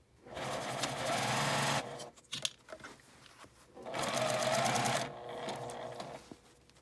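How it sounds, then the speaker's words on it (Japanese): Sewing machine stitching a seam on a fabric baby backpack, two loud close bursts of rapid whirring stitching separated by a pause with small clicks and handling. "入り口に10センチ印をして返し口を開けて1センチの縫い代で縫います。"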